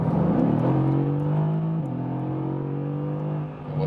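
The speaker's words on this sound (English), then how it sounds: "Has this sonorous V8 sound" A Mercedes-AMG GT V8 engine pulls hard on the Autobahn, its deep, steady, sonorous drone rising smoothly in pitch across the run, loud and continuous from inside the car, with no talk.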